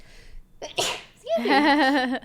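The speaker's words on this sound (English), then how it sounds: "I'm about to sneeze." A single sharp sneeze with a breathy inhale build-up, followed by a loud voiced burst, close to the microphone.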